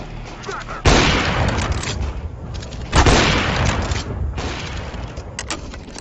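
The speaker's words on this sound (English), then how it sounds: "I'm throwing a grenade!" Grenade blasts in Counter-Strike: Global Offensive, two loud booming explosions a couple of seconds apart, each with a sharp onset and a long rumbling decay over the game's background noise.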